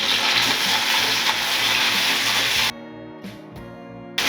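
Garlic and green chili hit hot oil with mustard seeds in a pan for cauliflower poriyal, giving a loud, dense sizzle for most of the moment before it abruptly drops to a quieter crackle with a few brief spits.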